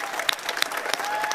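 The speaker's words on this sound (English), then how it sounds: "Clap hard if you know" A church congregation clapping hard, dense applause from many hands filling the room at a strong, even level.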